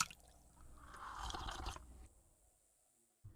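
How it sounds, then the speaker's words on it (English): A wet slurping gulp of drinking water in the video game Betrayer, one short squishy swallow that fades quietly into near silence, with no voices. "Let's drink some water real quick"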